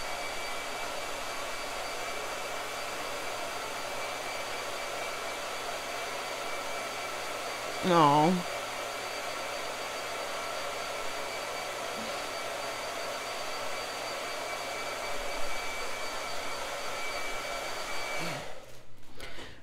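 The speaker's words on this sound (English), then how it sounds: "I'm going to dry this now. So blow dryer." A blow dryer runs steadily and close throughout, drying a layer of paint on an artwork, a continuous whooshing hum with a brief voice in the middle.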